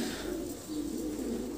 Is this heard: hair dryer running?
no